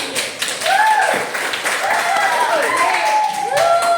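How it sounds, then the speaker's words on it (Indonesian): A classroom group applauding a student, with scattered clapping mixed with loud overlapping children's voices and shouts close by. "Beri aplaus untuk Kenzi"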